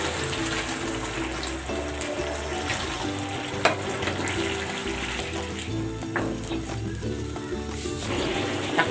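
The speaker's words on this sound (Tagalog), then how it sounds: "Lalagyan ko na ito ng tubig." Water is poured into a simmering ground meat dish with tomato sauce, soy sauce and pepper. A continuous pouring splash sits over the close, steady sizzle of the pan.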